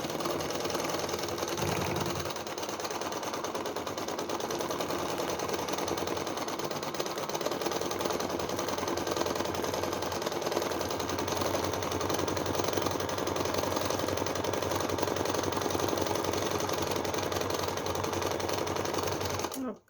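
A sewing machine runs continuously for free motion stitching on fabric, making patchwork belts. It gives a steady, close mechanical whir and rapid needle chatter throughout, with brief speech near the start.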